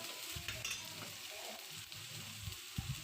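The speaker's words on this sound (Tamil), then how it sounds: "ஸோ இது கொஞ்சம் நேரம் நல்லா வதங்கட்டும்" Vegetables sauté gently in a pan for a kulambu, a low continuous sizzle with faint scraping of a spoon now and then, quiet and close with no talking.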